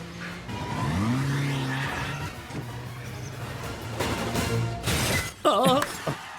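A car chase plays in a film scene, with engine roar, tire squeals, skidding and a shattering crash mixed with faint background voices, fairly quiet and busy throughout.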